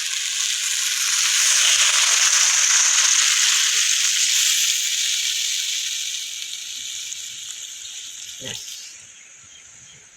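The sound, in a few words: water poured into hot pan with fried pointed gourd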